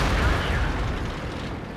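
A single heavy boom of a tank cannon shot striking an enemy turret in the World of Tanks game, a KV-1 battle, with a rumbling decay fading over under two seconds.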